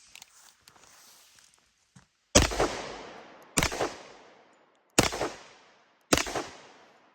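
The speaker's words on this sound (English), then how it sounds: "we're going to shoot 3 or 4 more times at it just to add some more emphasis to it" A Dan Wesson Kodiak 10mm pistol fires four loud, close shots into a memory foam pillow outdoors. They come at roughly one-second intervals, each a sharp crack with a short ringing tail, after faint rustling and handling noise.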